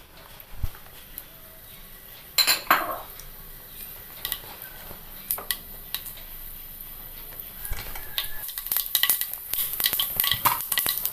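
Mustard seeds spluttering in a tablespoon of hot coconut oil in a pan, giving sparse, quiet crackles at first that build into a denser run of sharp pops near the end.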